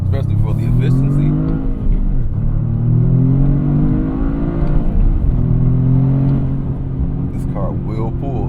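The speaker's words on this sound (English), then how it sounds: "This car will pull. Love the blow-off valve noise." A 2025 Toyota GR Corolla turbocharged engine revs hard, its pitch climbing and dropping through several pulls with blow-off valve noise, loud and close throughout with a steady roar underneath.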